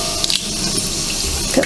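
Cold water runs steadily from a new kitchen tap, a close, continuous splashing flow with no break and no talking over it.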